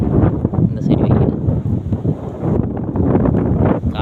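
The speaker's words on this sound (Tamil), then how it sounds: "காற்று அடிக்குது, ஏன்னா காந்துது." Wind gusts through a stand of trees on a hot, sunny day, a steady broadband rush that swells and dips continuously throughout, loud and close to the microphone.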